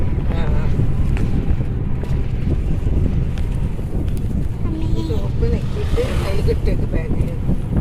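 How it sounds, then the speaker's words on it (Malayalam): Strong wind buffets the microphone in continuous low rumbling gusts, with vehicle-like drone beneath and occasional faint sounds. "നല്ല കാറ്റടിക്കും."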